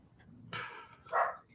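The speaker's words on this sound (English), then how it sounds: "We don't need your dog joining in on this." A dog indoors lets out two short barks, close and moderately loud, the second sharper than the first, with no talk over them.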